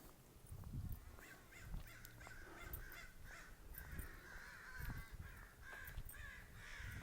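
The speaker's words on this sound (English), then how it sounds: "Do you hear the crows?" Crows caw outdoors in repeated, rhythmic calls, fairly distant and moderately faint over a soft background hum.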